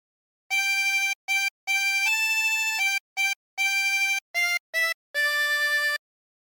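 A 24-hole tremolo harmonica plays a phrase of Waltzing Matilda, a run of bright, wavering reedy notes in short breaths, some brief and some held, clear and close with silence between.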